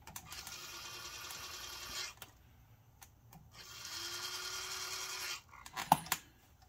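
A Tortoise switch machine on model railroad wiring runs with a low, steady motor whir in two stretches separated by a quiet gap, ending with a few faint clicks.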